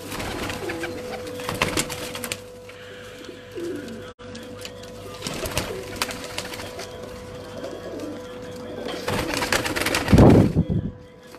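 Pigeons on a rooftop coo in soft, repeated bursts against a quiet background hum, with a louder, closer cooing near the end.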